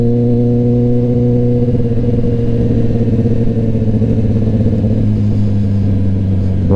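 A 2021 Kawasaki ZX-10R sport bike cruises on an expressway, its engine droning loud and steady with a strong low harmonic hum that shifts slightly in pitch as it runs, with wind noise throughout and no talking.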